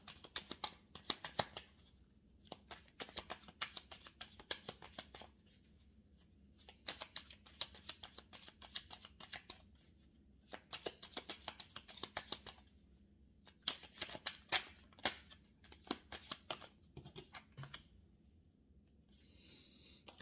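Tarot cards shuffled and laid out by hand, bursts of rapid riffling flutters alternating with short pauses and soft slaps as cards are placed, close and quiet with no talking.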